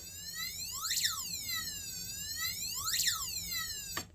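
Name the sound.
passive buzzer sweeping pitch like siren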